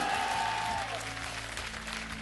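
A French TV game show studio audience claps in dense, sustained applause, loud and continuous, settling slightly lower after the first second.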